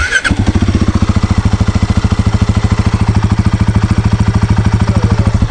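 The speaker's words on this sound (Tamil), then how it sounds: "நம்ம வந்து எக்ஸாஸ்ட் நோட் இப்போ நம்ம பார்க்கலாம்." A Royal Enfield Guerrilla 450 motorcycle idling, its exhaust giving a steady, even low thumping beat that repeats rapidly and evenly throughout, loud and close, after a brief start-up burst at the very beginning, with no talking.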